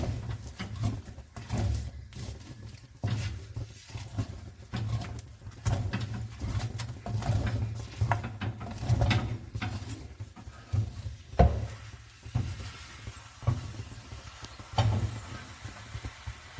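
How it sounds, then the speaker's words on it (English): Thick maize pap (sadza) is stirred in a pot, making repeated close scraping and thudding strokes at an uneven rhythm over a low background hum, with no voices. "Let's mix our pap for the last time before serving."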